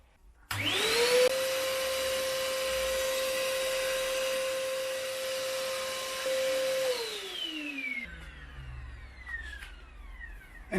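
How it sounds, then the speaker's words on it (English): A dust extractor in a resin casting and pen turning workshop runs through a pipe, starting abruptly with a loud, steady, tonal roar and whine. It holds for several seconds, then winds down with a falling pitch and fades out. "Now at the back, there's my pipe. It runs to my dust extractor."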